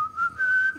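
A person whistles a wavering melodic tune, a clear pure tone gliding up and down in short phrases, close and alone with no talking.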